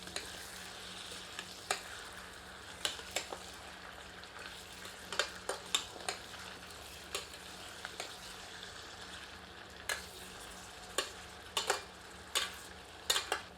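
Mutton with spices sizzles steadily in a pan while a spoon is stirred through it, giving sharp scattered knocks against the metal over a constant frying hiss, close up and with no talk.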